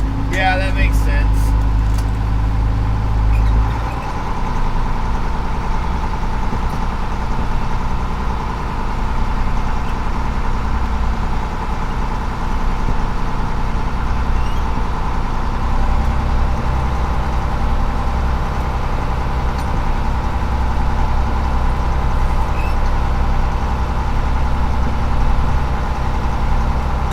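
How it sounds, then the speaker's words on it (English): A commercial king salmon fishing boat's engine running the hydraulics off Alaska, a steady low droning hum with constant idling rumble throughout, after a brief heavier burst at the start. "That's what tells me the hydraulics are on."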